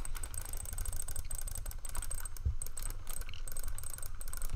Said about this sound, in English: listen to my mouse literally getting tortured